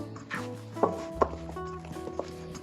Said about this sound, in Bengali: এটা আমি আবার একটু ঠেসে ঠেসে চটকে নেব।